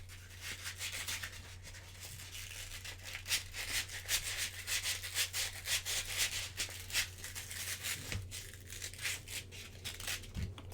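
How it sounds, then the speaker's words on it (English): A body mod is sanded down by hand before a sealant spray, producing quick, rhythmic rasping strokes over a steady low hum, fairly quiet and close. "Sanding everything down so I can go spray it with sealant"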